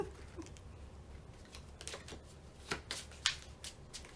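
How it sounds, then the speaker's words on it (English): Tarot cards shuffled by hand, soft riffling and slaps that come in scattered bursts, quiet and close, with a few sharper snaps toward the end. "Let's shuffle."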